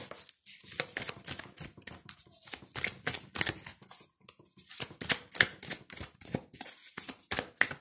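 Crisp rustles and snaps of tarot cards being shuffled and drawn, in quick irregular bursts, close and fairly quiet.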